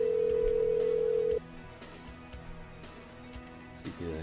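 A telephone call tone sounds as a loud steady tone for over a second, then cuts off, leaving faint line noise and soft clicks with a brief burst near the end.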